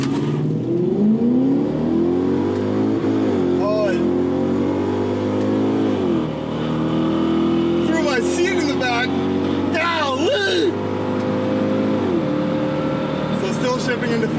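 An Infiniti Q45 on new wheels accelerates hard, its engine note climbing steadily through the revs with gear changes and spinning tires, loud and close from inside the cabin while people talk and cheer over it.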